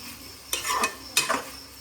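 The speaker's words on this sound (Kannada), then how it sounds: "ಎಲ್ಲ ಹೆಚ್ಚಿರೋ ವೆಜಿಟೇಬಲ್ಲು ಚೆನ್ನಾಗಿ ಕಲಿಸ್ಕೋಬೇಕು" Chopped vegetables are stirred with onion, ghee, oil, ginger garlic paste and masala for veg dum biryani, two short scraping, rustling strokes of a utensil through the mixture in a pot, close and brief.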